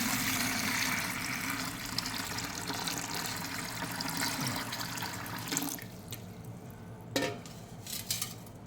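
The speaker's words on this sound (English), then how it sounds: "We are adding the water." Water pours steadily into a tank with a continuous rushing splash that is fairly quiet, then thins out near the end with a few brief clunks.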